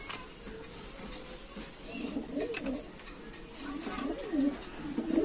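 Saharanpuri and Lal Jiriya pigeons coo in a loft in Canning, West Bengal, with soft overlapping throaty coos rising and falling close by under a faint background hiss, and no talk.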